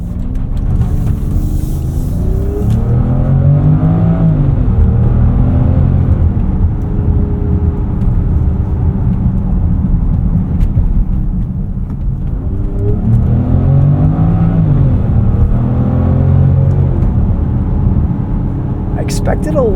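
A 2024 Range Rover Velar P400 Dynamic SE with an 8-speed automatic accelerates in sport mode, its engine rising through gears in repeated sweeps under steady road and cabin noise while someone talks over it.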